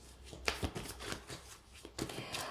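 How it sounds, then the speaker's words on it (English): Tarot cards are shuffled by hand in quick, crisp riffles and flicks, a close, soft papery rustle with a few sharper taps, heard alone without talk. "Let me shuffle a few cards so I can give you a detailed message here."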